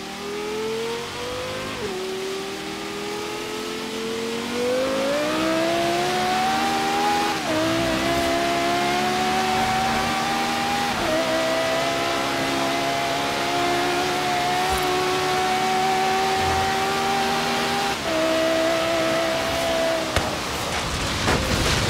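A V10 car engine in Forza Horizon 3 revs and pulls through the gears, its loud, smooth tone climbing in pitch and dipping at each shift, sustained at full volume for about twenty seconds with no talk.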